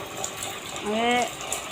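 Tap water runs in and washes across a house veranda, a continuous gushing rush with a brief rising squeal partway through, steady and close, with faint voices in the background.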